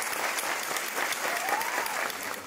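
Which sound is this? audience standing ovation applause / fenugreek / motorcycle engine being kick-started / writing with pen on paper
audience standing ovation applause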